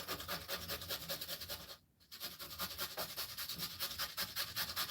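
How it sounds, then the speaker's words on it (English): A small piece of pumpkin is grated in quick, even rhythmic rasping strokes, close and steady, pausing once briefly before resuming at the same pace. "I'm just going to grate this little piece that's left."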